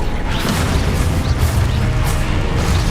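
Spell explosions from Confringo and Expulso cast in a wizarding video game, a dense, loud and continuous run of booms and crashes lasting several seconds, with scattered sharp pops on top and no talk.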